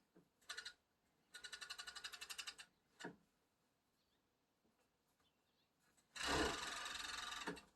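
A serger stitches around romper pocket pieces in several short runs, with a rapid pulsing whir in separate bursts and a longer steady run at the end, quiet pauses between.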